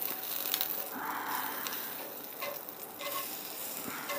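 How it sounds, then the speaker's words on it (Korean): Bread soaked in melted butter sizzles and crackles in a pan for grilled cheese toast, a steady quiet frying hiss with faint clicks and light stirring noises, no voices. "버터를 녹여서 빵에 충분히 묻혀주는 거예요"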